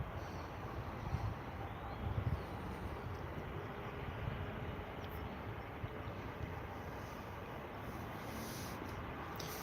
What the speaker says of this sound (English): You want to hear how loud this plane is when it takes off.